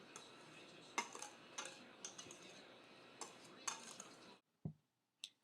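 Dry red velvet cupcake ingredients with chocolate are mixed in a bowl, faint soft scraping and a few sharp utensil taps against the bowl, quiet and close, ending in near silence with a couple of isolated knocks.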